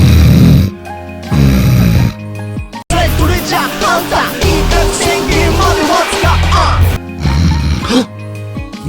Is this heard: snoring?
yes